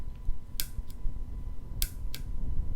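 Button switch 1 on an EduMaker coding board pressed repeatedly: four sharp, close clicks in two pairs, each pair a quick double tap, over a low steady hum.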